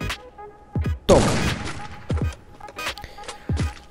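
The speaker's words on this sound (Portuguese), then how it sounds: "Acertar tiros com a pessoa em movimento é extremamente difícil." Rifle shots from a WM in the Free Fire battle royale game, several sharp single reports spaced about a second apart, with one heavier burst and lingering echo near the start, fairly loud with no talking.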